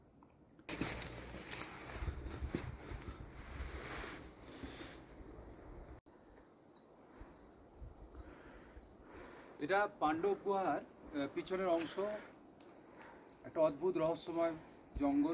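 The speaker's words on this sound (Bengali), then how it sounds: "শুধু ঝিঝির ডাক আর প্রকৃতি" Crickets chirp steadily in a forest behind the Pandav cave near Manali, their high continuous trill filling the background while someone talks over it and other rustling sounds come and go.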